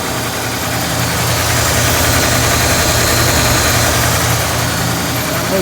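A Ford F100 truck with leaking valve covers and oil on the exhaust manifold idles while warming up, a loud, steady, close rumble that never changes pace, with no voices.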